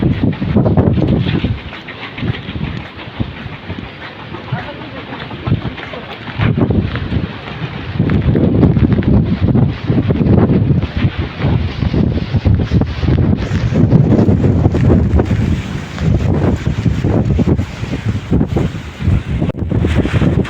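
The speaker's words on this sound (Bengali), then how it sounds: "মানে বাতাসের তীব্রতা এত বেশি যেখানে দাঁড়িয়ে থাকাটাই খুব একটা চ্যালেঞ্জিং বিষয়।" Strong gusts from Cyclone Remal batter the Bangladesh coast near a terminal beside a river, roaring and buffeting close into the microphone in continuous waves with no speech.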